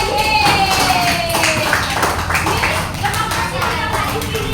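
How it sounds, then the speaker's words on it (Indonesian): A class group in a teacher-training lesson claps for another group, a short burst of hand claps mixed with cheering and chatter from nearby voices. "tepuk tangan untuk kelompok ini"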